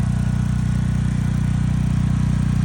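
A portable generator runs steadily inside a DIY soundproofed shed for whole-house backup power, giving a constant low, throbbing engine drone heard from outside, unbroken and fairly loud.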